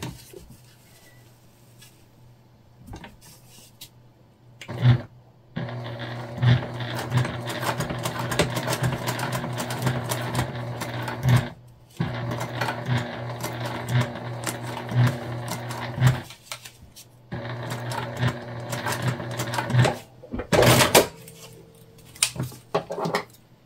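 A sewing machine topstitches a small fabric pack bag in several sustained runs separated by brief pauses, its rapid needle clatter close and fairly loud.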